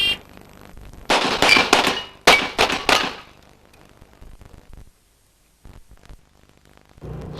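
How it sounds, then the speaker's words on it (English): Competition pistol fire at the 1989 Steel Challenge Shooting Championships: a quick string of sharp, loud gunshots in two rapid bursts, followed by quieter pauses and faint range sounds. "Let's see how he can shoot under match pressure."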